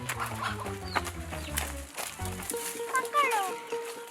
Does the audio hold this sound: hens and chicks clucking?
yes